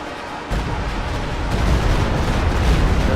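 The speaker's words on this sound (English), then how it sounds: "Stuka moving up to fire." Stuka rocket artillery fires in a World War II strategy game, a sudden heavy rumbling barrage that starts after a short pause and keeps booming and crackling, loud and close.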